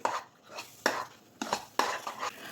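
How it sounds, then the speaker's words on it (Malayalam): Moong dal halwa stirred and thickened in a pan, with rhythmic repeated scrapes and knocks of the spoon against the metal at a close, moderate level. "ഇത് അടി പിടിക്കാതെ കുറുക്കിയെടുത്ത് ഇളക്കിക്കൊണ്ടിരിക്കണം."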